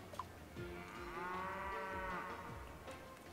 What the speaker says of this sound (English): Sounds like a cow.